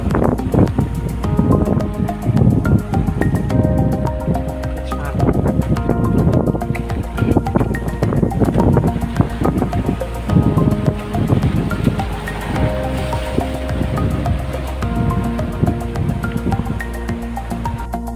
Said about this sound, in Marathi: हा हे मध्ये लाट येणार आहे.